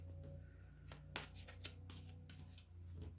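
Cards riffle and snap in quick bursts at close range, several short shuffling flurries over a low hum.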